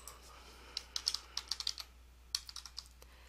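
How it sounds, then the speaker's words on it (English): Keys on a computer keyboard tapped to enter a name into an inbox search box, a sparse run of light, close clicks in two short bursts with pauses between, alone in a quiet room. "you may type in the name in the search box"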